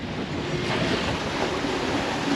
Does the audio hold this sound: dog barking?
no